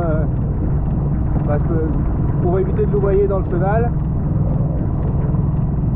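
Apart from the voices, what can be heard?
boat motor running on a small catamaran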